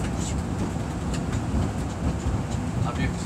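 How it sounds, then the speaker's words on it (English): A train rolls through a tunnel over bumpy railroad track, giving a steady, loud, close rumble with faint rattling throughout and no clear voices. "It actually feels like a roller coaster with the bumpiness of the railroad track."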